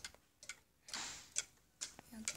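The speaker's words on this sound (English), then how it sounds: "This clock does not sound properly." Ticking of a wall clock with a broken hammer, a few uneven soft ticks close by, mixed with other faint handling noises and a brief hiss.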